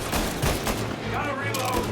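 Bursts of rapid gunfire crackle from a shootout in the Mafia Definitive Edition video game, loud and continuous across the moment, with shouted voices mixed over the shots.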